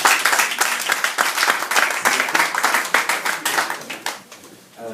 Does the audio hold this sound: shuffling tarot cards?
no